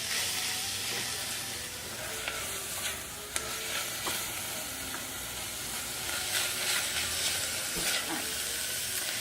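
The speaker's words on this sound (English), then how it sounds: "we're just going to saute those for a few minutes until our onion becomes a little bit translucent" Chopped onion sautés with a little salt in a hot pot for risotto, giving a steady close sizzle and hiss with occasional stirring scrapes and small pops throughout, without talk.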